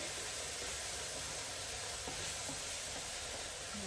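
Rinsed red lentils are stirred into vegetables in a soup pot, a continuous loud hissing sizzle with faint scraping of the spoon under it and no talking.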